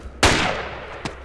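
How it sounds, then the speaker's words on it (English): Loud gunshot crack in the ARMA 2 Project Reality video game, followed by a long rolling echo and a second, fainter shot about a second later. "The surround sound with the gunshot scares me."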